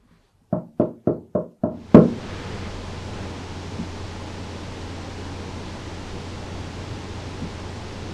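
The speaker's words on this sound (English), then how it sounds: "can you please knock back?" Six sharp knocks land in a quick, evenly spaced series, the last one louder, then a steady hiss of background noise fills the rest.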